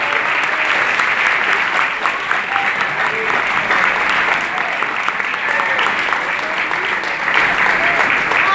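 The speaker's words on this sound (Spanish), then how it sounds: "fuerte, fuerte su aplauso para Lautarito Fernández." A theatre audience gives loud, steady, enthusiastic applause for performer Lautarito Fernández. The dense clapping continues without a break for several seconds.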